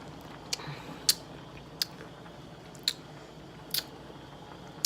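Someone eating vegan ginger tofu soba noodle soup, with several sharp, close slurps and mouth clicks spaced irregularly over a quiet background, no talking.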